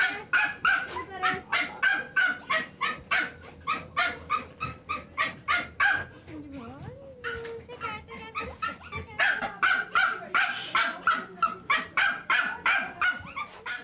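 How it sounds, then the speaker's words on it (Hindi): A dog barks in a steady run of loud, close yaps and yips that continue through the clip, with a brief pause in the middle before the barking resumes. "ये कुत्ता तो बिल्कुल जिल्ली जैसा है"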